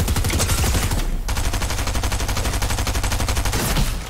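Rapid bursts of automatic gunfire in Fortnite, a dense rattling volley that carries on almost continuously with only a short gap near the start, loud and close with no talk over it.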